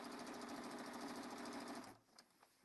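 Sewing machine stitching quilt binding, a steady close rapid whirring run of stitches for about two seconds that then stops abruptly, leaving faint small handling noises.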